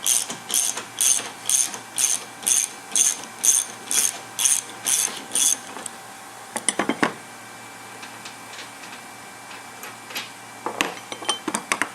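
Windshield mounting bolts on a 2019 Polaris RZR 1000 XP are worked loose with a hand ratchet, a rapid run of about a dozen crisp clicking strokes, then a few short bursts after a pause, close and clear with no talk.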